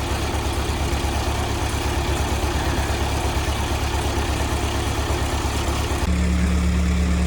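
A heavy log skidder's diesel engine idles steadily and close by, fresh from new air, fuel, hydraulic and oil filters and new fluids, giving a continuous low rumbling throb that deepens slightly near the end with no talking.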